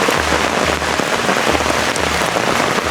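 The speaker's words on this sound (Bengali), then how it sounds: "আর ছাতার উপরে বৃষ্টি ফোঁটা পড়ে কিন্তু অনেক শব্দ হচ্ছে জোরে" Steady, loud patter of heavy raindrops drumming on an umbrella close by in a large rubber plantation in Mymensingh, continuous dense hiss with a low rumble underneath.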